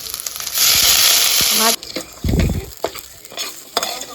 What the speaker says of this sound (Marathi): आता मी आधी पुलावला फोडणी देते